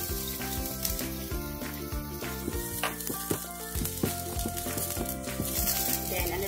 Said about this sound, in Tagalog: mainit ng ating kawali. So, ilalagay ko na po ang bawang